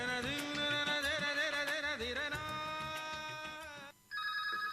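A telephone rings for a listener phone-in call on an All India Radio Akola broadcast, a loud, steady, tonal ring that continues unbroken, briefly drops out near the end, then resumes with a changed tone; no one speaks.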